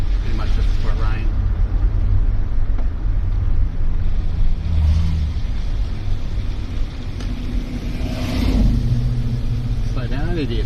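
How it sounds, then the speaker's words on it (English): Cars drive around Lakeside Park Raceway, their engines rumbling and rising as they pass at middle distance, with a louder pass near the end and people talking over the noise. "There's some more cars driving, nice ones too."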